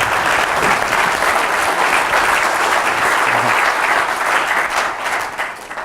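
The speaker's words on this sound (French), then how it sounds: "je pense que ça mérite des applaudissements là" Audience applause at an industrial mixed-reality HoloLens demonstration, a loud, sustained, dense clapping from a sizable crowd that holds steady and eases off slightly at the end, with no talk.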